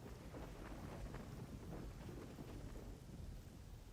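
Thunder rumbling from lightning on a stormy Team Fortress 2 map, a steady, dense roar with rain-like hiss throughout, moderately loud and continuous with no voices.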